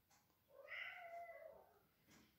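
A cat meows to be let outside during bad weather, one drawn-out, rising and falling cry close by in a quiet room, followed by a brief softer chirp.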